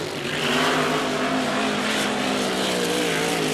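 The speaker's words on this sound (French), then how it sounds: "Et voilà, Jean Théoret qui accélère." GP-7 racing hydroplane accelerating at the start of a time trial at the 1994 Valleyfield regatta, a loud continuous engine roar with rising harmonic whine, sustained close and powerful throughout.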